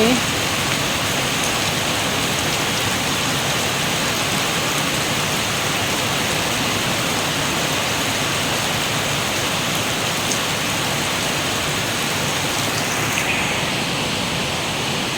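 Heavy rain pours down steadily over a garden, a dense unbroken hiss close by that holds level for the whole stretch.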